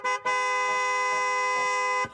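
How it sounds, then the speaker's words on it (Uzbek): A car horn blares at a traffic light in two blasts, a short honk followed by a long sustained one, loud and close with no talk. "Menimcha 15 sekunddan beri yashilda to'xtab turganing uchun chaldi"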